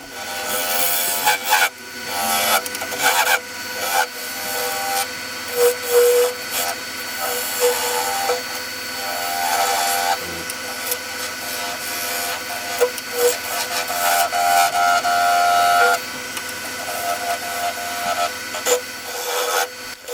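Spindle gouge and parting tool cutting a yew log goblet on a wood lathe, a continuous scraping hiss with intermittent sharper bursts of chatter as the tools bite the spinning wood.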